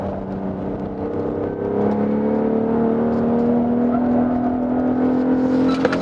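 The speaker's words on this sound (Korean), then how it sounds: "일단 스포츠 플러스 모드 해놓고 감속 다운시프트 쳐주고" A BMW X3 M40i in Sport Plus mode blips its engine on a downshift while slowing, a close, loud rising rev that climbs steadily in pitch over several seconds inside the cabin.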